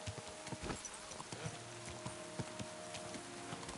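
Horse hooves clip-clopping in Kingdom Come: Deliverance II, a steady patter of hoof steps over a constant ambient bed with light game sounds, at moderate volume.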